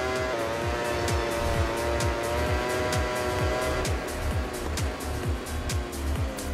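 Racing motorcycles in MotoGP 20, engines whining at high revs with repeated rising and falling pitch sweeps as they shift gears, loud and continuous, with someone commentating faintly underneath.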